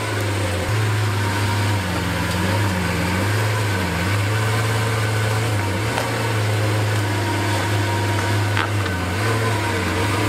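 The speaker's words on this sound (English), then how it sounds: "JJ's Aventador's coming out." Lamborghini Aventador V12 engine idling steadily close by, a deep continuous rumble with slight rises and dips in pitch, no voices.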